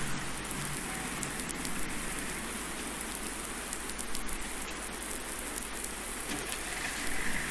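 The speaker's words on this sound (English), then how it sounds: "this is serious rain." Heavy in-game rain pours steadily over a farm field in Farming Simulator 19, a dense continuous hiss of raindrops striking surfaces with no break and no voices.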